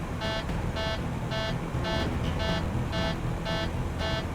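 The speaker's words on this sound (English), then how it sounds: "triggering the wind shear alarm on the plane" An aircraft's wind shear alarm on a passenger jet caught in a downdraft, sounding as a steady series of evenly spaced electronic beeps, about two per second, over a constant roar of cabin and engine noise.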